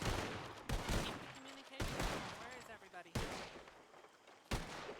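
Sharp bursts of gunfire in a Red Dead Redemption roleplay game, several loud cracking shots spaced out over a few seconds, with voices talking between them.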